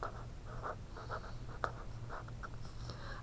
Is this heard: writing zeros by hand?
yes